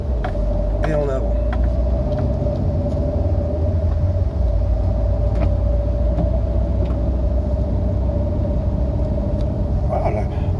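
A Renault Scenic drives at night, a continuous low road rumble and engine hum filling the cabin with a steady tone, plus a few brief knocks over the top.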